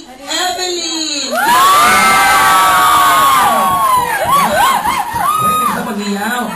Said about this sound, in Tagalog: Okay, sige, palakpak pa lang tayo.